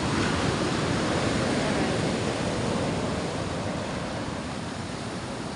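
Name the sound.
sea waves and strong water current after typhoon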